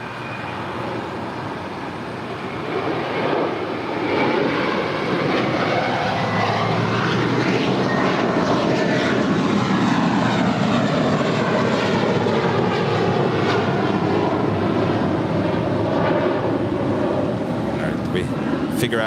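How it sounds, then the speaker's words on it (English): A JetBlue airliner, flight 288 bound for Boston, departs LAX with a loud, sustained jet engine roar that holds steady and rises slightly toward the end. "That was JetBlue 288 departing to Boston."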